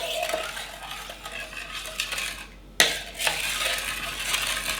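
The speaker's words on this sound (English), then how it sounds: "You pour your 2 cups of boiling water, and you will stir that until the sugar looks like it's dissolved." Spoon stirring sugar into two cups of boiling water for lavender lemonade, a steady scraping swirl of utensil against the container with a few sharper clinks, close and continuous, no talking.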